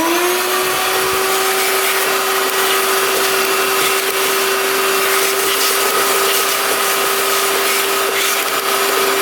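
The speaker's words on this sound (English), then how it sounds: "So let's get a vacuum out and we can vacuum that out." Vacuum cleaner running continuously and loudly with a steady high whine, sucking debris out of a dirt bike airbox.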